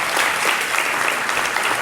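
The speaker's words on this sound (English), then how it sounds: "kindly put your hands together and give a big round of applause to all the presenters" Conference audience applauding the presenters, a dense, even wash of clapping throughout with no talking.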